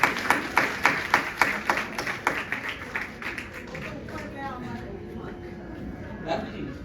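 Audience claps for a lyricist at a live Indian classical and soulful music tribute concert, starting as a loud burst of distinct claps and thinning to scattered patters while talk continues underneath.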